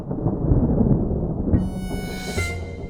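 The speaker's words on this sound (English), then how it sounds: "Oh, that's not a stomach rumble. That's a sky rumble. That's a thunderstorm." Thunder during a thunderstorm, a deep continuous rumble rolling throughout, fairly loud, with a bright sustained musical tone entering partway through and layered over the low growl.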